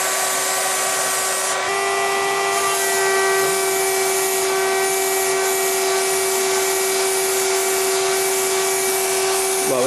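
Matting agent sprayed onto the leather upholstery of an Aston Martin DB7, a steady close hiss from the spray gun running almost continuously, with a faint tonal whine throughout.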